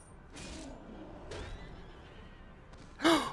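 Horse in the video game Abalon, with a few faint breathy bursts followed by a brief, louder whinny right at the end.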